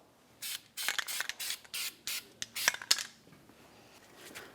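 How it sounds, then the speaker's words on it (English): Copper anti-seize compound sprayed from a can onto the mating surface of a wheel bearing hub on a 2009-2019 Ford Flex: about eight short, close hissing spray bursts in quick succession, alone. "use some copper never seize on the mating surface of the bearing hub"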